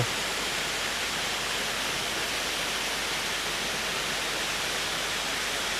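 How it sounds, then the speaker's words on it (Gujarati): A mountain waterfall stream in Uttarakhand, beside the road to Badrinath, gives off a steady, dense rushing roar that stays even and loud throughout, with no voices over it. "ડુંગરા ઉપર આવા ઝરણા પડતા હોય એટલો સુંદર મજાનું ઝરણું છે"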